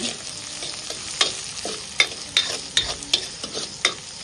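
Onion, red chillies and curry leaves sautéing in a pan over a wood-fired chulha: a steady sizzle broken by sharp scraping clacks of a spatula stirring, close and fairly loud, with no talking.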